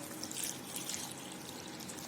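Water poured from a container onto a garlic, ground pepper and salt pesticide mix, a steady close trickle running alone for about two seconds.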